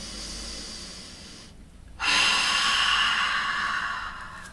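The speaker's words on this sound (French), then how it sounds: "Inspire profondément. Et expire." Slow, deep yoga breathing, close to the microphone: a long, airy inhale, a brief silent pause, then a louder, steady breathy exhale that fades gradually, with no talking.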